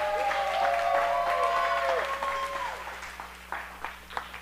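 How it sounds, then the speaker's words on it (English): An audience at a live business event applauds and cheers, with loud whoops and shouts over the clapping early on, thinning into scattered claps by the end. "Give it up for these guys."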